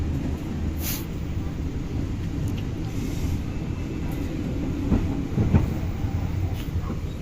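Inside a moving Cikuray economy-class train, a continuous loud rumble mixes with rattles and rail clatter as another train passes alongside, with a few sharper metallic clanks toward the end.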